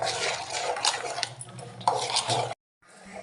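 Eggless vanilla cake batter beaten by hand in a bowl, a steady run of scraping, clinking utensil strokes against the dish for about two and a half seconds, then a brief pause and softer mixing.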